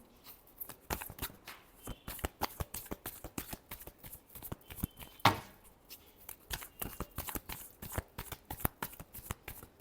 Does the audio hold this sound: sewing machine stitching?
no